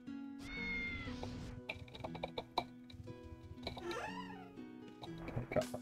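A cat in the video game Ultima Online meows repeatedly, with several drawn-out, wavering cries alongside clicks and game sounds, fairly clear over the soundtrack.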